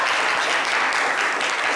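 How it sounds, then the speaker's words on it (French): A studio audience at a festive Tabaski broadcast claps loudly and continuously for a woman called up from the public, a dense, close round of applause. "on peut l'applaudir très très fort"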